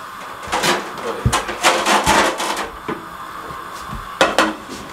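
Kitchen clatter as a plate is lifted and set back down, several hard knocks and scrapes against a counter amid low room noise, with a brief loud clack near the end.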